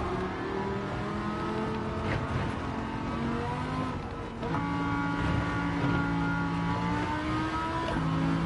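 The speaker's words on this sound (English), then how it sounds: "Ferrari Enzo." A Ferrari Enzo engine in Gran Turismo 7, driven from the cockpit view with traction control off, holds a steady, loud harmonic drone that shifts pitch as it revs. The tone briefly dips near the middle, and no one speaks.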